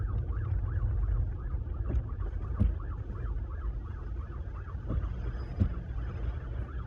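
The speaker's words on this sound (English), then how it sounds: "I hear the ambulance, emergency vehicle." A wailing ambulance siren rises and falls repeatedly over steady low traffic rumble in rain in Australia, heard from a Tesla Model 3, moderately distant and continuous throughout.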